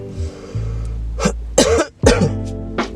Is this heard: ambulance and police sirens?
no